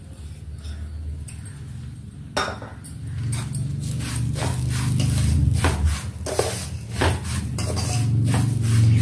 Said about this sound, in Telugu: ఇలా కలుపుతూనే వేయించుకోవాలి. రవ్వ ఇలా సగం వేగిందండి.